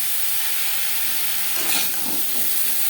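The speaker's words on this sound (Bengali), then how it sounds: "আম হালকা করে ভেজে নেব" Mango pieces fry lightly in a pan, producing a constant bright hiss with a brief swell of stirring and sizzle near the middle.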